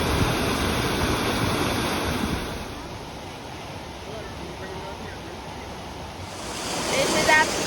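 River water rushes steadily over rock at Franconia Notch where the channel splits, a continuous broadband roar with a faint sharper gurgle near the end.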